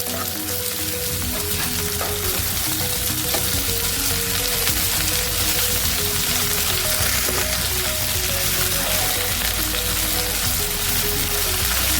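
Katla fish pieces cook in hot mustard oil, giving a constant, close crackle of frying that stays loud and even throughout. Quiet stirring noises mix in. There is no talking.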